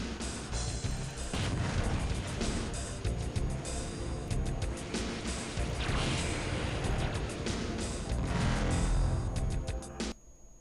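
Fusion cannon fire in the video game Descent II, a dense barrage of loud booming blasts and crashing impacts that run continuously for about ten seconds and then cut off abruptly.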